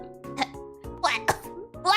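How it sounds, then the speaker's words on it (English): A person coughs a few times in quick bursts, close and fairly loud, with short vocal sounds and exclamations mixed in between the coughs. "Oh, I'm gonna cough."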